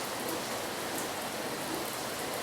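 Rain falls outside as a steady, even hiss with a dense patter, and no voices can be heard over it.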